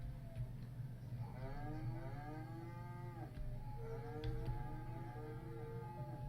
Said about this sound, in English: Lots of cow noises and stuff.